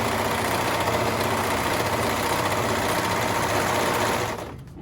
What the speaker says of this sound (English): And just keep sewing them together and not cutting them apart.